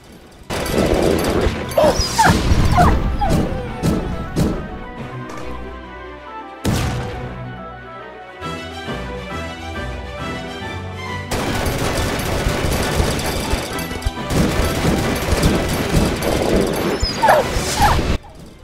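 Dog barking, yipping and whimpering in the video game DEEEER Simulator, mixed with game gunfire and loud chaotic effects, close and dense for most of the stretch with a brief drop in the middle.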